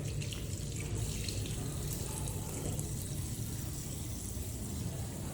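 Tap water runs steadily into an office sink during handwashing, a continuous close splashing rush that holds level for the whole stretch with no talking.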